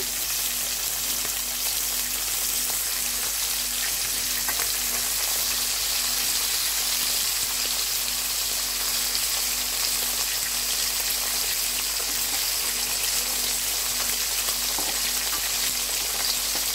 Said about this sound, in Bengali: মাছগুলো আমরা একটু ভেজে নিচ্ছি